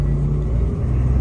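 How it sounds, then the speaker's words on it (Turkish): Inside a city bus in Prague in January, a steady, loud low engine rumble and road noise drone on without a break, with no voices over it. "Otobüste amma gürültülü."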